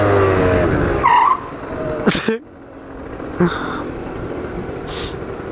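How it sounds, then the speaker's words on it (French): A scooter accelerates and then skids, a loud engine note followed by a sharp tire-scraping burst and a few rough scrapes, with some voice sounds mixed in. "j'ai accéléré, j'ai fait un dérapage"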